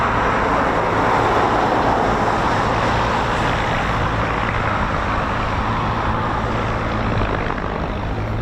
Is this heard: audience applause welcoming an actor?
no